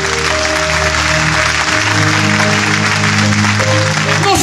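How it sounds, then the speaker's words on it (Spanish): Church congregation applauding at a Spanish-language sermon, a dense steady wash of clapping with sustained music or organ tones running beneath it throughout. "Aplauso para el Señor."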